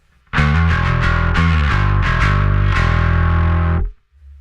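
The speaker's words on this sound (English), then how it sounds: "we have the turbo version of the Douglas distortion" A Douglas B3K turbo high-gain distortion pedal on electric guitar gives loud, saturated, heavily driven chords struck in a rapid run of strums, ringing on continuously for about three and a half seconds before cutting off.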